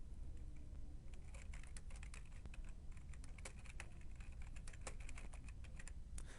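Fingers type steadily on a computer keyboard, with rapid, irregular clicking keystrokes close by and no voices.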